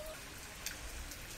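Light rain falling during a spell of heavy rain in Karnataka, a faint, steady patter with soft drips and no voices.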